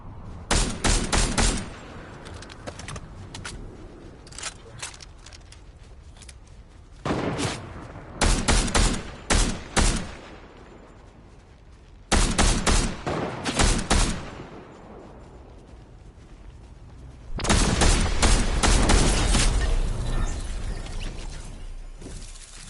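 Sniper and automatic gunfire in the Resident Evil 4 remake, loud rapid bursts of shots in four separate volleys with short pauses between, alone without talk.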